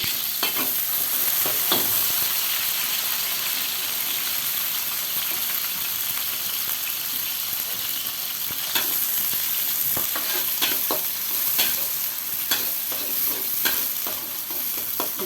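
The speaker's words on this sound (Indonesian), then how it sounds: "Bawang merah, bawang putih saya masukkan, teman-teman." Shallots and garlic sizzle in hot oil in a pan for sambal, a dense steady hiss that runs unbroken under repeated sharp scrapes and knocks of a stirring spatula, with no speech.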